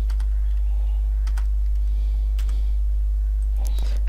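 A name is typed on a computer keyboard, a few sparse clicky keystrokes in small bursts over a constant low electrical hum.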